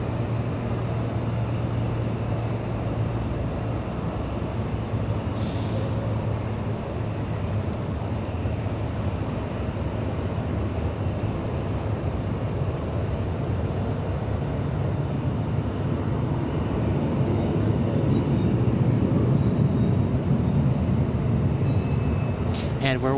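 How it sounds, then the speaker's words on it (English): A Southwest Boeing 737-800 arriving at LAX from SFO gives a steady, distant jet roar that swells slightly toward the end, with a voice talking at times. "Southwest 351 flying in from SFO, a 58-minute flight"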